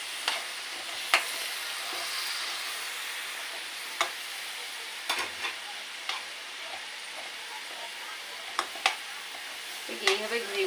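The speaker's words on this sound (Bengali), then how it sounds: "তো এবার আমি এইগুলোকে এমনি রসের মধ্যে দিয়ে দিচ্ছি চুলার মধ্যে।" Leaf-wrapped pitha simmering in hot sugar syrup on a stove, giving a steady soft sizzle and bubbling hiss with occasional sharp clinks and stirring scrapes, continuous and fairly quiet, no talk.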